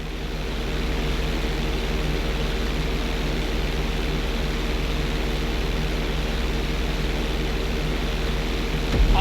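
A plane taking off in GTA V's flight school, heard as a steady, loud, continuous engine drone with a broadband rush that holds evenly throughout, with no voices.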